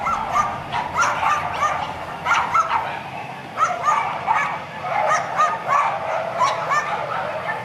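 Hundreds of caged dogs at a puppy farm bark, yip and whimper together in a dense, continuous, overlapping chorus, loud and close, with no pauses.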